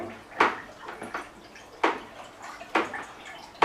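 Homemade wine mixture is stirred in a fermenting bucket before fermentation, giving sloshing, swishing liquid sounds in uneven surges, close and moderately loud, with no talking.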